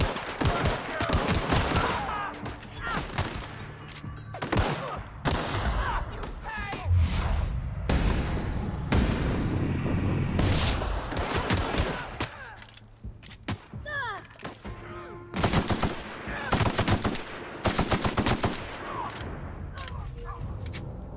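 Gunfire in The Outer Worlds video game: repeated loud bursts of shots and heavy thuds over about twenty seconds, some rapid and clustered, with occasional speech in between.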